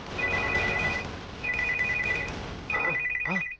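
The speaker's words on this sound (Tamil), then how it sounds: "ஃபோன் அடிக்குது." A telephone rings in three repeated bursts of a bright electronic trill, with short gaps between them and a low background bed underneath.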